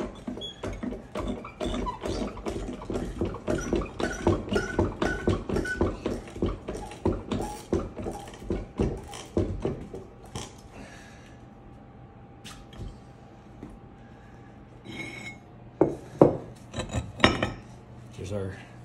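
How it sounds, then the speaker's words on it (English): An AECT small block press compresses Mars soil into a block at 2000 PSI with a run of rhythmic metallic clanks and scraping strokes. The clanks then give way to quieter, scattered clicks and rattles. "put it into the AECT small block press mold. Let's compress this down to"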